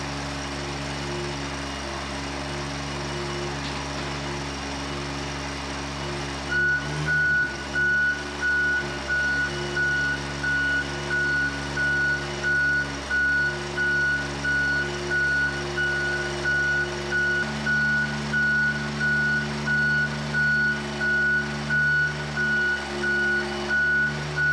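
A man-lift's engine idles, then after a clunk it starts moving and a loud, steady reversing beep repeats at an even pace over the running motor, close by.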